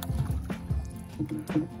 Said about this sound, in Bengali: দেখুন আমাদের মাঝি ভাই নৌকা বাইছে।